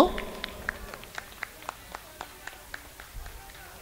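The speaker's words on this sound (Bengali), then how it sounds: "একটি করতালি সকলের কাছে অনুরোধ করব।" A small audience at a community gift-giving event for children gives sparse applause, a run of distinct, evenly spaced claps that fade over a few seconds with no talk.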